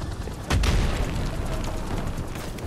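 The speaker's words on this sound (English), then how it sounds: "Mortar fire! Incoming!" Mortar fire explosions in the Call of Duty: Modern Warfare Remastered video game: one heavy, close boom erupts, then settles into a loud rumbling battlefield din.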